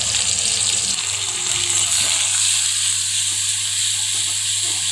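Onions sizzle in hot oil in a pan as the base for a Bengali prawn curry, a loud, steady hissing crackle that fills the sound from close by with no talk.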